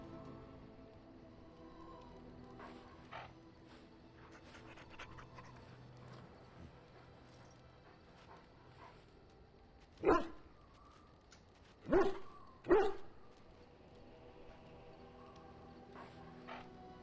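A puppy in the Dragon Age Origins video game pants softly in the background, then gives three loud, sharp barks close up, a single one followed by a quick pair.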